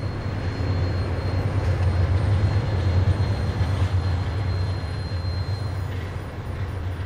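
California Zephyr passenger train rolling steadily through American mountain and plains country, a continuous low rumble of wheels and cars that stays loud and even throughout with no voices.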